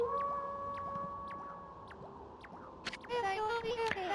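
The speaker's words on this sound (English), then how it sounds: "That was Kimu's howl." A wolf's long, wavering howl from the Okami video game, a sustained tonal cry gliding slowly downward over a hushed background, with soft chiming game sounds and a brighter musical flourish near the end.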